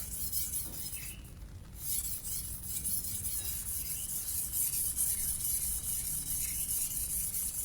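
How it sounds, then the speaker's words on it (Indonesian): A steady, rhythmic scraping of a Japanese gyuto knife rubbed back and forth across a coarse-grit Japanese whetstone, quiet and close, with no voices. "Ini kita ngasah dari grade kasar ya"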